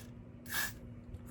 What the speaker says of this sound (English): follow that up with the freeze spray